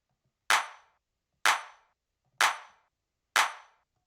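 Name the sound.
clap drum sample in a 90s house track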